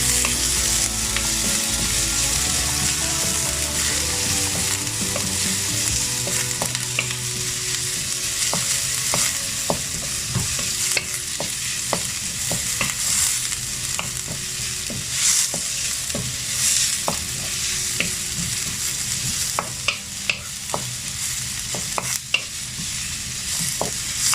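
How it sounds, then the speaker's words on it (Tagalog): Chopped onions sauté in a pan for a Filipino upo and ground pork dish, a steady sizzle and frying hiss broken by frequent scrapes and clicks of stirring, with no talking. "Hintayin lang natin yung sibuyas natin hanggang sa lumambot lang siya."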